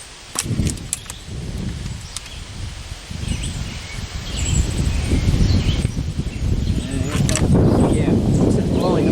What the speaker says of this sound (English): Not impressed with this wind picking up though.